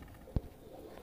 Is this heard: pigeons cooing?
yes